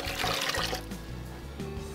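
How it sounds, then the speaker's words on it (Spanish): Cooking water from boiled squash pours and splashes steadily into a blender, a continuous gushing liquid sound heard close up without any voices. "vamos a poner el agua donde las cocimos"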